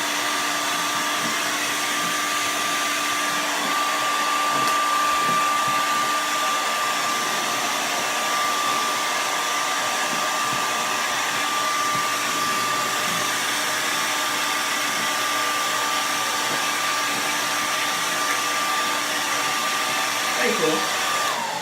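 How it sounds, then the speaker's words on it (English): A hair dryer blows steadily while straightening curly candy-colored crochet braid hair, a loud, continuous whooshing roar with a thin whine that runs unbroken and close for the whole stretch, with no talking. "So right now I'm blow drying it out to straighten it out from the curl."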